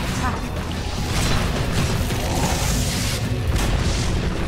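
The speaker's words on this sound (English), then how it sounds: "Dire's top tower has fallen." A tower being destroyed in Dota 2: a heavy rumbling boom and crashing debris that stay loud and dense throughout, with a voice speaking over them.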